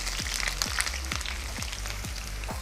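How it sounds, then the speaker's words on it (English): Onions dropped into hot cooking oil for a Nigerian sweet potato and chicken dinner give a steady crackling sizzle, with faint low thumps repeating through the background and no talk. "Once your oil is hot, go ahead and add in your onions."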